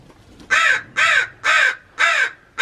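Crows in a new bird enclosure fitted with perches give four loud, evenly spaced caws, close by, with no other sounds.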